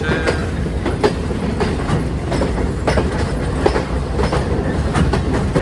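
A train pulls into Kandy railway station in Sri Lanka, loud and close, with continuous rumbling and a steady clickety-clack of wheels over rail joints, no voices.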